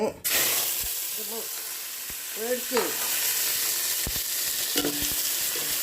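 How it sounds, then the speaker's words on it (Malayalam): Garlic, curry leaves and green chilli sauté in a pan with a steady close sizzle and frying hiss. Stirring scrapes and clinks sound intermittently over it, along with a few brief voice-like sounds. "വെളുത്തുള്ളി, വെല്ലുള്ളി, കരിവേപ്പില, പച്ചമുളക്, മറ്റേ ഉരുളക്ക് ഇതിനും കൂടെ ഇതിലിട്ടിട്ട് വഴറ്റിയെടുക്കുന്നുണ്ട്"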